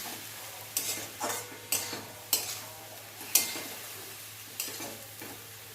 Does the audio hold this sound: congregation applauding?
no